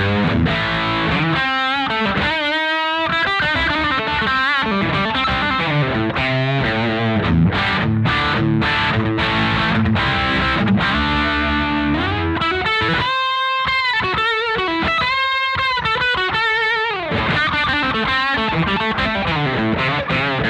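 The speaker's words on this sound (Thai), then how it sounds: "แล้วถ้าผมเปิดวอลลุ่มขึ้นมานะครับมันก็จะกลายเป็นเสียง distortion นะครับเสียงแตก" Suhr electric guitar pushed into heavy overdrive with the volume rolled up, a loud, saturated distorted tone playing sustained chords and riffs with brief pauses, continuous and close with no talking.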